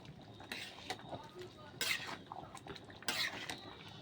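A spoon stirs overcooked dal in a metal pot, giving a few scraping, clinking strokes at a steady rhythm, close and fairly quiet.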